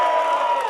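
Crew of the USS Carl Vinson cheering and whooping at North Island, a brief loud burst of crowd shouting and applause close by.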